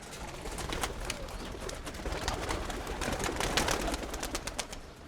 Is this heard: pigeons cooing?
yes